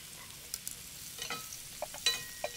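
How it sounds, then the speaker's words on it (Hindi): Carrots frying in butter in a pan, stirred with a utensil, with a steady soft sizzle and a few light scraping clicks from the stirring. No one speaks. "So you can keep stirring while I add the root vegetables."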